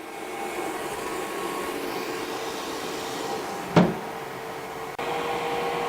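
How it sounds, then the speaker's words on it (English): Steady whooshing airflow from an xTools SafetyPro fume extractor fan, with one brief sharp tick around the midpoint and a small click near the end as debris strikes inside. "you can hear little bits of it hitting the fan in there"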